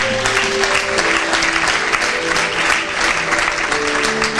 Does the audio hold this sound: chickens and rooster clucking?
no